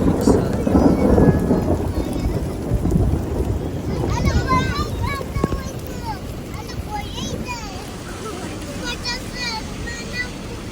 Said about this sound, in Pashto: داسې خوندور باران نو ما هم نه و لیدلی